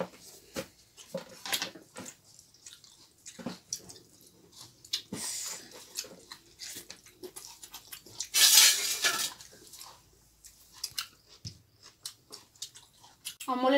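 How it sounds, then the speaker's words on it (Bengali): Someone eats vegetable stems with rice at a home lunch, with scattered clinks of plate and utensils, soft chewing and squishing. A louder crackling burst sounds partway through. "খাওয়া শুরু করছি। তো আগে আমি ডাঁটাগুলো খাবো"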